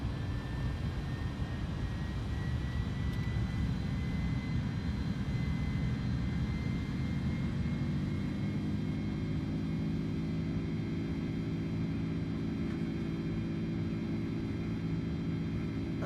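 Jet airliner engines roar steadily through a takeoff roll in a flight simulator, a loud sustained broadband rumble with a whine gradually rising in pitch as the aircraft accelerates.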